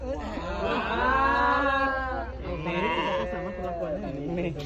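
Sheep bleating loudly and close at a livestock measuring session, long wavering cries one after another, with people talking in the background.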